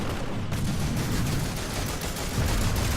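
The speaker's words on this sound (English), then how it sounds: "Oh, shoot him, get some bullets on him, get some bullets on him." Sustained automatic gunfire in a multiplayer shooter scrim match, a dense overlapping stream of rapid shots with no pauses, steady and fairly loud throughout.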